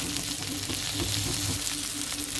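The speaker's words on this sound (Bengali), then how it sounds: "পাতাগুলো সব ভাজা ভাজা হয়ে গেছে।" Bhetki fish paturi wrapped in leaves fries in oil with a dense, loud, unbroken sizzle and a faint low hum underneath, heard close up and with no one speaking.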